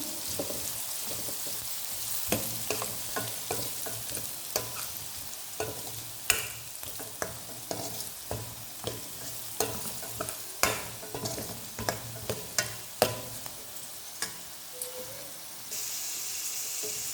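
Coriander powder stirred into chicken and egg fried rice as it fries in a pan, a spatula scraping and tapping in a steady rhythm of sharp knocks over a soft continuous sizzle, close and moderately loud.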